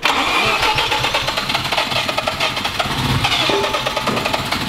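A red Mazda RX-7 FD's rotary engine cranks and fires, then keeps running loud and close with a rough, pulsing idle throughout.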